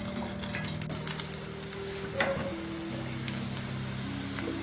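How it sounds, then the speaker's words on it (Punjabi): Onions sizzle in hot ghee at a moderate level, with a low background hum and occasional clinks of stirring. "ਆਪਾਂ ਪਿਆਜ਼ ਭੁੰਨਣ ਨੂੰ ਪਾ ਦਿੱਤੇ ਪਿਆਜ਼ ਭੁੰਨੇ ਜਾ ਰਹੇ ਨੇ"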